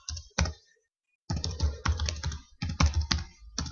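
Fingers type quick bursts of keystrokes on a computer keyboard entering a domain name, close and crisp clicks broken by a short pause.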